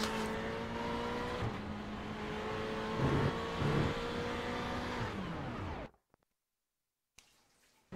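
Onboard engine of the number 10 race car in the iRacing sim, a loud steady drone with shifting pitch that runs for about six seconds, cuts out abruptly into near silence, then returns faintly near the end.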